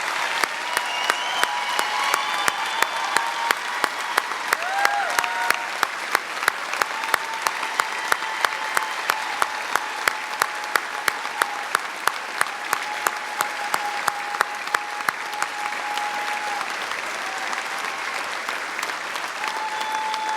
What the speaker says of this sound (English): well-deserved round of applause